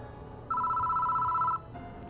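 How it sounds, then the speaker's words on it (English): Desk phone in the horror adventure game Spirit Hunter: Death Mark II, a single steady electronic ring lasting about a second over a low music bed, clear and close, with no talking. "And the phone on the desk is ringing."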